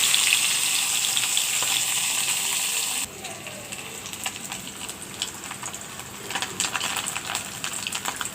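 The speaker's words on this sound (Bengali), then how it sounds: "সবকটি মাছ এগুলো তেলে ভেজে আমি" Fish sizzle in hot oil in a pan, bright and hissing at first. After a few seconds the frying drops abruptly to a quieter crackle with irregular spits and pops, close up.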